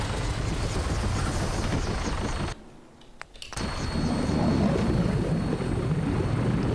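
An aircraft in the Fallout 4 Far Harbor game lands, its engines throbbing in a steady loud drone that cuts out briefly and then returns.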